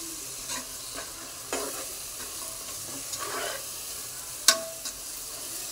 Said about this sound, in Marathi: आता दह्यात चांगला मसाला शिजवून घ्यायचा।